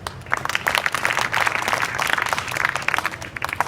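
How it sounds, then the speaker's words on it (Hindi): Students clap together in a school classroom at an inter college in Azamgarh, a busy, moderately loud patter of many hands lasting the whole stretch. "वेरी गुड, ताली बजाओ।"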